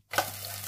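Almond paste hits hot ghee in a nonstick pan and settles into a soft, steady sizzle over low heat, close by and fairly quiet.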